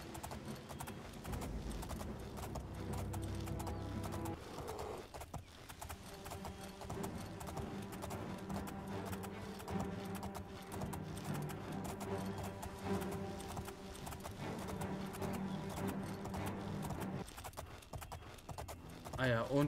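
In The Elder Scrolls IV: Oblivion, a ridden horse's hooves clip-clop in a continuous rhythmic beat, quiet and steady, while someone talks over it.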